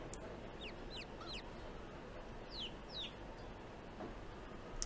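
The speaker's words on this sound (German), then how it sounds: "Wir haben neue Küken," Chicks peep in short rising chirps in the Medieval Dynasty video game, a few quick calls in small bursts over a steady low ambient rumble.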